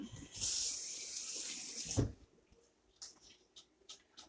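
Water runs from a tap as a hand is rinsed beneath it, a bright steady splash for about two seconds that then stops, followed by a few faint drips and handling noises.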